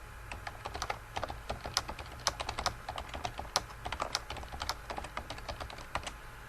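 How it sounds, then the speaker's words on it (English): Typing on a computer keyboard in an office setting, with brisk irregular key clicks and sharper taps from nearby, steady throughout with no talking. "I can type in that on 6/23, I spoke with Jeff"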